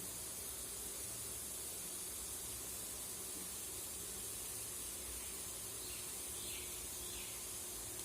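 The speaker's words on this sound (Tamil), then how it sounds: "கடுகு நல்லா பொரியட்டும்." Mustard seeds spluttering in hot oil for a Tamil kuzhambu tempering, a steady dense hiss and crackle that holds evenly for the whole stretch without talk.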